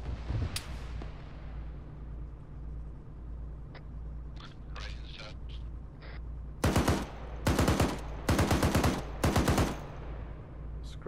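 Arma 3 combat: after a distant shot and scattered faint pops over a vehicle's low rumble, loud close bursts of rapid automatic gunfire strike in several quick volleys.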